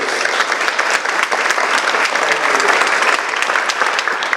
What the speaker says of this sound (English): So I want to just give a round of applause to these trustees.